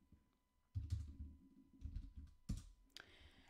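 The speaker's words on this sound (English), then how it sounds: "you will have to type in the date manually" Typing on a computer keyboard, soft nearby key clicks in a few quick bursts with short pauses between them, quiet and alone.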